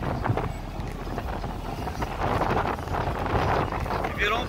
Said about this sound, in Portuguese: Desculpa aí se o vídeo ficar muito barulhento, porque tá ventando bastante